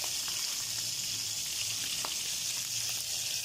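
Daing na bangus, a dried milkfish with its tail tucked to fit the pan, frying in oil with a dense, continuous close sizzle and small pops.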